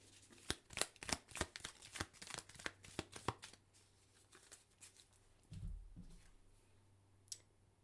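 Tarot cards are shuffled in a quick run of crisp, close riffling flicks for several seconds, then a softer thump and a single faint click follow in quiet surroundings.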